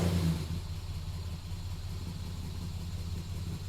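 A Ford Falcon with a newly relocated battery starts up, its engine settling into a low, steady rumbling idle after a brief louder burst at the start, heard close by with no speech.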